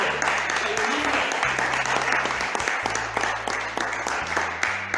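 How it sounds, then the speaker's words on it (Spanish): A church congregation applauds together in a dense, continuous wash of clapping, with a low sustained keyboard or organ tone underneath. "Denle un aplauso al Señor"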